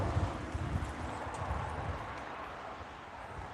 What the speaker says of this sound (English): There are the goats walking in front on the top of the screen.